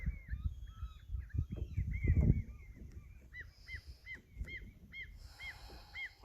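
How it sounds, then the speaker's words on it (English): Geese honking in the distance, a series of repeated faint calls that start scattered and settle into an even rhythm, heard over soft nearby rustling and thumps indoors. "Noticing and hearing maybe the birds here that are back in the distance."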